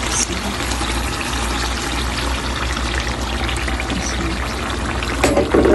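Coconut milk pours into duck meat cooking in oil, making a steady, close pouring and bubbling sizzle that runs without a break and swells slightly near the end.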